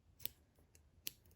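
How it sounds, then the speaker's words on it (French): Scissors snip crochet yarn, two or three quick, crisp cuts close by and quiet, with no talking. "Et je coupe le fil."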